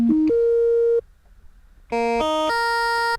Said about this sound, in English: So waveform number 1 is a sine wave.